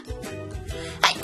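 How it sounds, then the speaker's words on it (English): An odd, unusual sneeze from a person indoors, a short loud burst near the end after low murmuring and breathy sounds. "Sorry, I have a weird sneeze."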